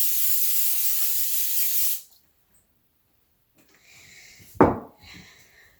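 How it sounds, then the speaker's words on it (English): A steady hiss of cooking oil spray onto a baking pan for banana bread lasts about two seconds, followed by silence and then a soft clatter of the pan being handled. "Just make sure you spray it with something. Some kind of oil."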